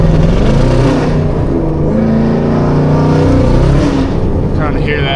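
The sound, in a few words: Camaro ZL1 tires spinning at wide open throttle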